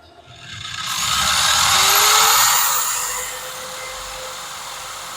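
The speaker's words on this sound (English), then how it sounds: "Step 4, cut and polish 1 1/8" tubing." Metal cutting and polishing on 1 1/8 inch tubing for an air launcher parachute mount, a loud steady grinding whine with a rising tone, swelling in over the first second and easing slightly toward the end, with no talking.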